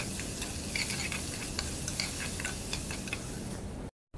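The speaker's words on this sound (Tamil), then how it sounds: "வெங்காயத்தை சேர்த்து அதையும் நல்லா வதக்க ஆரம்பிக்கிறோம்." Chopped onions sautéing in a pan for a simple chicken curry, a steady close sizzle with soft scrapes and stirring clicks throughout, no voices, stopping abruptly at the very end.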